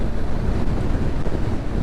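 Riding a Honda CBR 600 motorcycle on a cold day, wind roars hard against the microphone in a continuous low buffeting rush, loud and close, with no voices.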